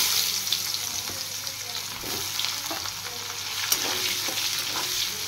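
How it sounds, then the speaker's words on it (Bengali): Chopped onions and nigella seeds fry in hot oil in a pan, giving a steady, close sizzle with occasional soft stirring scrapes throughout. "এবার পেঁয়াজগুলো একটু ফ্রাই করে নেব।"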